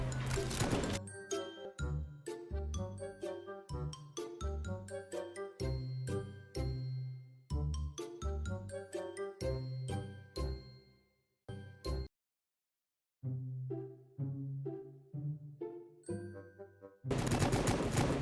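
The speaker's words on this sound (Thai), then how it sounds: "เอาปืนพกไปยิงกับบอส" Pistol fire at a boss in the zombie video game Zombie Merge Tycoon, heard as rapid repeated game gunshots with bright chiming hit effects, a brief pause near the middle, and a burst of louder effects at the end.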